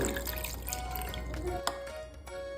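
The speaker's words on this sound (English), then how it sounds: "add on 80 grams of water" Eighty grams of water poured onto sourdough starter in a bowl, a close continuous trickling pour with small splashes and a faint drip near the end, no talk.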